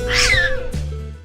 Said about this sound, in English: Hey, that's a cat!